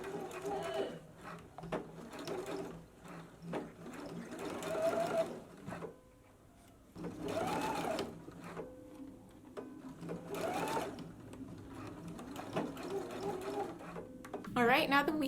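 A sewing machine stitches straight across fabric between two snipped corners while making a dress, running in several bursts of rapid steady stitching between pauses, with someone talking over much of it.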